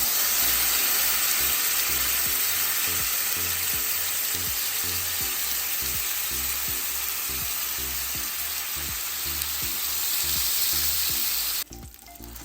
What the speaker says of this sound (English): I'm going to squeeze the juice right in the pan. With the butter.